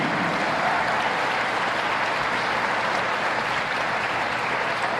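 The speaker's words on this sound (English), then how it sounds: "Let's give a massive round of applause to the Milford Volleyball team!" Steady, dense applause from a crowd in a gym at a boys volleyball state championship, saluting the Milford volleyball team, sustained at an even level and somewhat distant.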